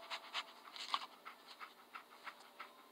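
Dogmeat, the dog companion in Fallout 4, panting softly in quick rhythmic breaths, faint and close, with no other sounds around it.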